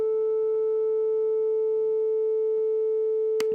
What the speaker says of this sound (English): this is what a 438 hertz frequency sounds like